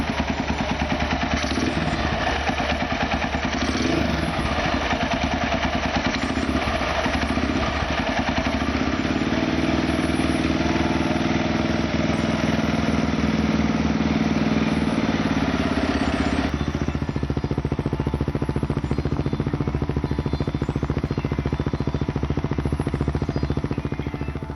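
A motorcycle engine runs steadily and loud up close, a continuous mechanical drone with clattery texture that shifts slightly in tone partway through, with no talk over it.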